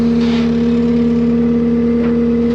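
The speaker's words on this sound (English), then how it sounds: "Dad gave me a little job to see if I can get this skid steer loader out" A skid steer loader being driven out of soft, sinking ground on a farm, its engine droning loud and steady with a strong tonal hum, rising slightly in effort, close by.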